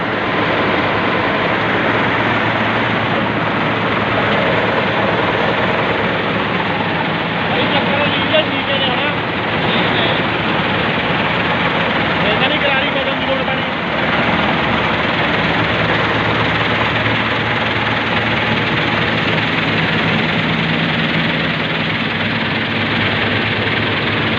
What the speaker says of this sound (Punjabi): ਟਰੈਕਟਰ ਮਸ਼ੀਨ ਦੀ ਆਵਾਜ਼